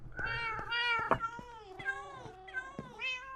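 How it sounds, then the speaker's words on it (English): Several cats in Minecraft meow over and over, overlapping, with clear harmonic cries close and loud. "Cats everywhere."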